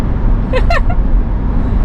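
A car moving fast along the Great Ocean Road in Australia, heard from inside as a steady low rumble of road and engine noise, with a brief voice speaking partway through.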